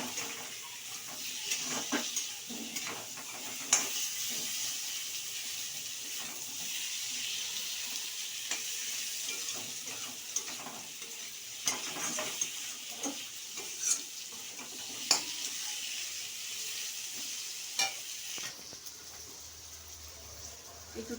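Boiled potatoes being fried with spices in a pan, a soft steady sizzle with scattered light scrapes and taps of stirring, fairly faint and close.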